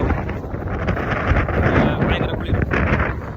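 Strong wind buffeting the microphone at a beach in bad, rainy weather, a continuous loud rushing roar with gusts rising and falling throughout.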